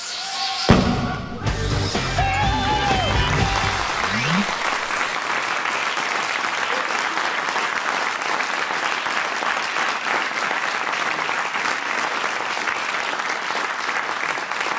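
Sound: audience applause

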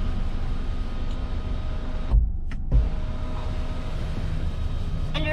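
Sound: car power window opening, Nissan Rogue SL

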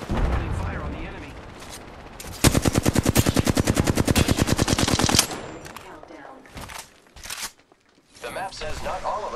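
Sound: gunfire at an enemy in the video game Apex Legends

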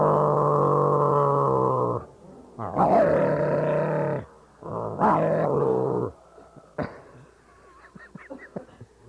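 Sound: Vox Box voice effect changing voice to a dog

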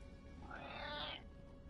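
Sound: cat meowing

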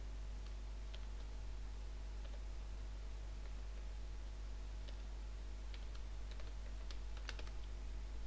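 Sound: typing a password on a computer keyboard

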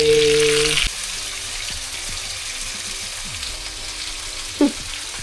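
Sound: fish frying in coconut oil

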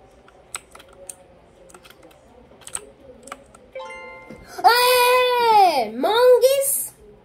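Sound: computer keyboard typing

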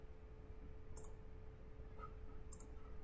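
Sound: computer mouse click

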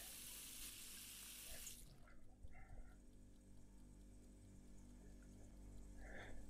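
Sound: water running from tap, one liter

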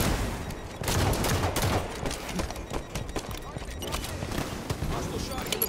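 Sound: enemy gunfire in the video game Halo

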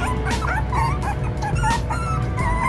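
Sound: puppy whimpering in pain from stomach ache

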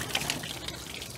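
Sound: water draining from a Ford V10 engine cooling system

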